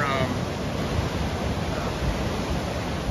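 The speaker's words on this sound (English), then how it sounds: "As you see, there are waves crashing, but they're not that big." Small waves breaking along a sandy state beach at Corona del Mar, sheltered by an underwater breakwater, heard as a continuous broadband wash of surf with steady wind-like roar and no distinct voices.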